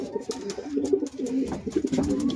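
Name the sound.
pigeon cooing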